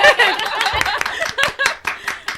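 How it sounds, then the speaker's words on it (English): A small live audience claps in a short, uneven patter of hand claps, close and moderately loud, with a faint chuckle mixed in. "We're clapping for you."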